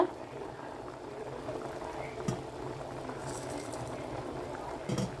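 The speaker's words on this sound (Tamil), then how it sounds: "இப்போ வந்து இங்கே பாருங்கள் நல்லா கொதி வந்துருச்சு." Prawn gravy boiling in a pot on the stove, a steady low bubbling simmer that runs evenly and fairly quietly throughout, with a couple of brief knocks but no talking.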